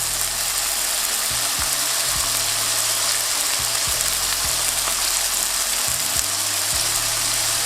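Smashed burger patties sizzle on a hot griddle as a dense, loud, continuous hiss with faint low popping, close and steady with no talk.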